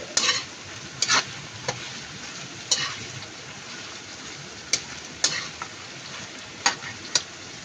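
Meat browning in a pan for a Filipino coconut milk stew with green papaya, giving a steady close sizzle and fry hiss throughout, broken by a handful of sharp stirring clicks and scrapes, with no talk.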